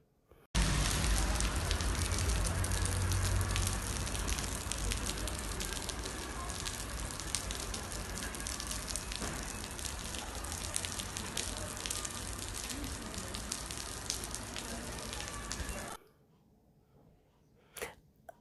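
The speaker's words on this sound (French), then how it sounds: "Il ne pleut qu'à un seul endroit." Steady hiss of rain falling, loud and continuous for most of the clip, then cutting off abruptly into near silence with a few faint sounds.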